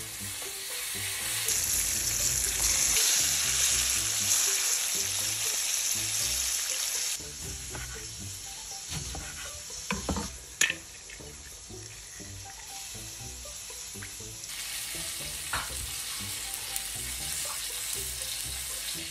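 Milkfish (bangus) sizzles steadily in hot oil in a pan, a close, loud crackling hiss that carries on throughout, with a few faint kitchen clinks in the middle.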